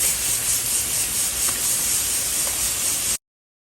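Fish fillets hit hot oil in a pan, a loud, even hiss that holds steady for about three seconds and then stops abruptly.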